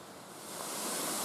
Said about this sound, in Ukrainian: клекотіти, гомоніти, рокотати тут може лише водоспад